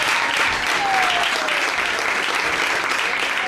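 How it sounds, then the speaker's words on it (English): A home crowd at a Class A Legion playoff baseball game gives a steady, loud ovation, continuous clapping and cheers as the pitcher comes off the field. "he'll come off to an ovation from the home crowd"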